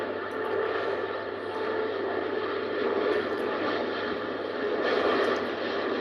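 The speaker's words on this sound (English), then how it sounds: "It's the British Airways flight number BA 295 to Chicago. Boeing 777." A British Airways Boeing 777 with Rolls-Royce engines taking off at Heathrow makes a steady, broad jet roar, loud and unbroken, with no talk over it.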